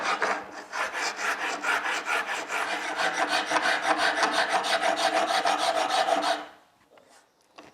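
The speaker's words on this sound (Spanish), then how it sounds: "Hay que colocar muy recta la lima para que coma por todo igual y para que esté recto." A hand file rasps across alabaster stone in steady back-and-forth strokes, close and continuous for about six seconds before stopping, with no talking.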